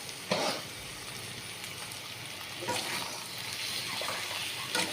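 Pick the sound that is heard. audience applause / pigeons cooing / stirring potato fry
stirring potato fry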